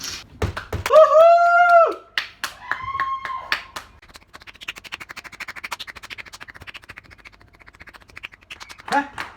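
From a home window during quarantine, distant applause for health workers comes as a run of light, rapid claps, preceded by voices and whistle-like calls, faint and spread out.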